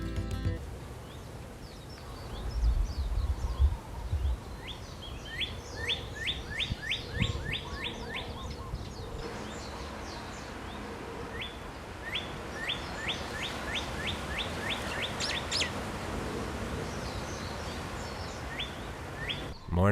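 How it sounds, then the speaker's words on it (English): Birds sing in a Hawaiian morning, mostly non-native species, with repeated bright chirping phrases and trills at moderate distance over soft background ambience, no voices. "almost all the birds you hear singing are not native to the islands"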